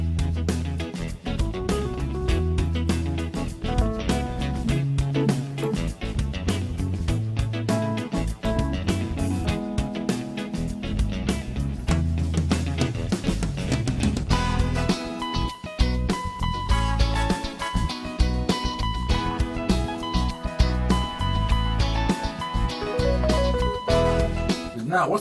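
A Ketron SD keyboard's launchpad plays back WAV files arranged in scenes, as in a live performance, giving steady, full-band music with bass and chords that runs loud and unbroken for about 25 seconds, with no talking.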